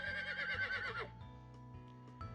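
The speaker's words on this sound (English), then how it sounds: "I hear a horse neigh." A horse neighs loudly in the Code: Realize video game, a wavering whinny over the first second, followed by a quieter ambient game background with faint music and a few soft knocks.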